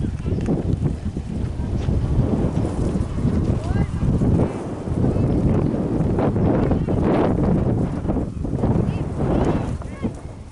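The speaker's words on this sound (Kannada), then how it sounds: "ಏನು ಗಾಳಿ ಸರ್?" Strong wind buffets the microphone at an outdoor junior cricket match in a constant, rumbling roar that barely lets up, with people talking underneath.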